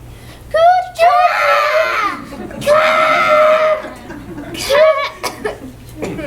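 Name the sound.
people imitating bird calls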